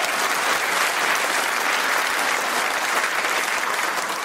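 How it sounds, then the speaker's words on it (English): A live comedy audience claps together in a steady, dense roar of applause that holds at full strength throughout, close and loud with no voices over it. "Give yourselves a clap"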